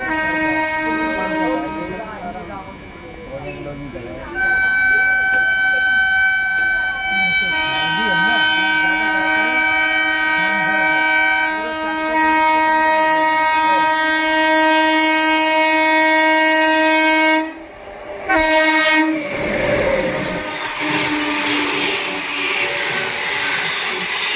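The Awadh Express passes close by, sounding a long, loud multi-tone horn over rumbling wheels and rail clatter, with a short break in the horn before it resumes. A voice speaks briefly over the noise.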